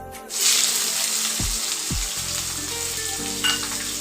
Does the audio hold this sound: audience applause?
no